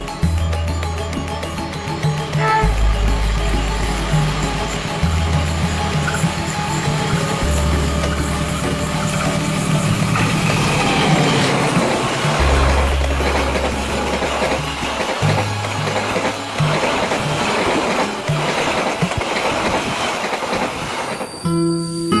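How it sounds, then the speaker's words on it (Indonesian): Joglo Semarkerto passenger train from Semarang rolling past at close range, a long loud rumble with wheel clatter and squeal as the carriages go by, ending in a sharp clunk. "saya mendapatkan kereta Joglo Semarkerto dari Semarang dengan angle yang saya bilang sempurna"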